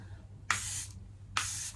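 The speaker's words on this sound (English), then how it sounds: "I'm going to use a little bit of my Charlotte Tilbury Airbrush Flawless Setting Spray and seal it all in" Two quick bursts of Charlotte Tilbury Airbrush Flawless Setting Spray hiss from a pump bottle, each a short, bright, close spritz of about half a second, separated by a brief pause over a low background hum.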